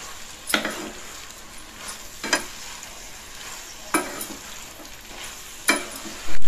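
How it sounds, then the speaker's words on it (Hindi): Chopped rava idli pieces are stir-fried in masala, with a steady pan sizzle broken by four sharp spatula scrapes and clinks against the pan at uneven intervals. "ये कटा हुआ इडली डाल देंगे। और इसके साथ भी हम 2 से 3 मिनट तक भून लेंगे।"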